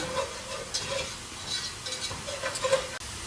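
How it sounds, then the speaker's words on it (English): Butter and flour roux whisked in a pan for a creamy sun-dried tomato pesto pasta sauce, with repeated soft scraping strokes and a faint sizzle, steady and close with no talking. "So I did a tablespoon of butter and now a tablespoon of flour, and you're going to whisk it really well."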